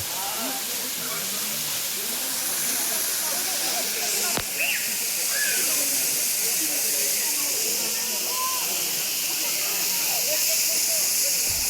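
A waterfall in Maharashtra, about a hundred to a hundred fifty kilometres from Nagpur, roars as a loud, steady rushing hiss from start to finish, with faint voices buried in the noise.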